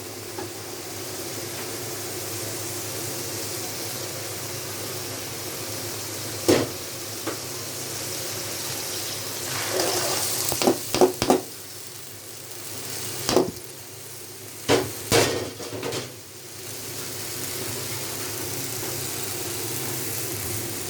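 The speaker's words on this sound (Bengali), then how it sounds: "এখন সিমের বিচিটা দিয়ে দিব" Broad bean seeds frying in masala in a pan, a steady sizzling hiss with occasional louder scraping stirs and clatters near the middle and end.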